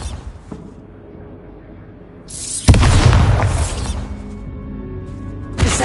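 Bombarda spell blast in Hogwarts Legacy: after a quiet room tone, a rising whoosh leads into one loud, close explosion with a rumbling tail, followed by another sharp burst at the end.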